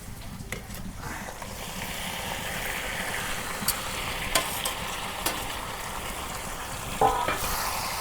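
Chicken curry being tempered in a pan over a clay stove, a steady broad sizzle with scattered clicks and stirring scrapes, a sharper burst near the end.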